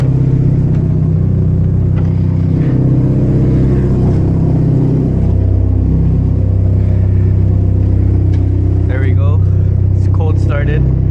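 A manual Genesis Coupe with an aftermarket exhaust idles loud and close, a deep steady rumble running throughout, while people talk over it.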